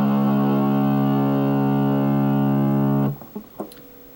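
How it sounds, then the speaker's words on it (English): Electric guitar with four strummed notes ringing as one sustained, distorted chord over an open low E, then a switch to the bridge pickup cuts it off, followed by a few short scratchy clicks and muted plucks. "you're going to strum those 4 notes and then switch to your bridge pickup"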